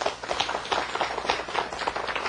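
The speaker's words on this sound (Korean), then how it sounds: "박수 한번 쳐보세요." An audience in a lecture hall claps steadily, a dense and lively patter of many hands without pause.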